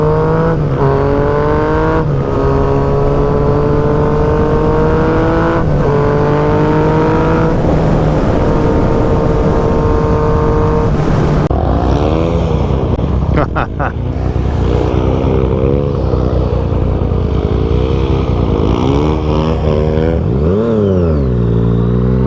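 A 2016 Yamaha FZ-09 motorcycle engine pulls steadily as the throttle rolls on, a loud continuous drone rising and falling in pitch with wind rush, then a lower rumbling stretch with brief revs near the end.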